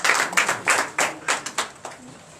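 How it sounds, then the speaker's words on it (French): A church congregation at a Sunday service in Benin claps in a steady rhythm, about eight sharp claps over two seconds, fairly loud and close, with no voices over them. "Donnez l'acclamation à notre Seigneur."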